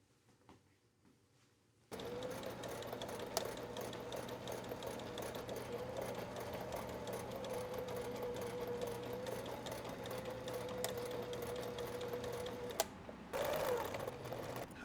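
A sewing machine stitching a straight seam across a beach tote bag made from fabric rectangles, starting after a brief quiet and running in one long, even mechanical whir, close, with a short pause near the end.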